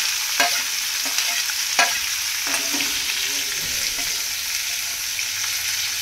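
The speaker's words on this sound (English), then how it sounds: "So we give it a nice little mix so that it mixes and blends well with the oil and the chili and peanuts" Onion frying in oil with chilies, curry leaves and peanuts, a bright continuous sizzle punctuated by a few sharp spatula scrapes and taps near the start, close up and without talk.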